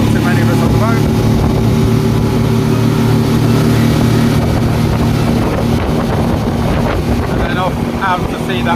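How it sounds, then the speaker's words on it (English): A speedboat ferry leaving port and heading out to sea, its engine droning steadily and loudly beneath constant wind buffeting and water noise, with a few voices faintly mixed in. "most passengers do this, which is go in the speedboat ferry"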